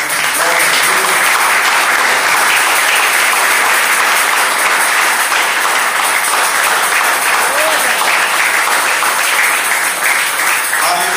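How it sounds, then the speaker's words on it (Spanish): Loud, sustained applause from a church congregation as the pastor comes forward to preach, dense continuous clapping with a faint voice or two underneath. "se le pide un fuerte aplauso."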